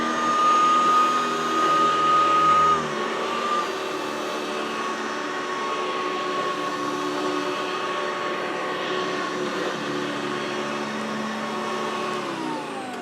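A Hoover vacuum cleaner from the late 1980s runs steadily on carpet, a close, loud, whining motor drone with high tonal whistle, easing slightly in pitch early on, then holding a constant roar throughout.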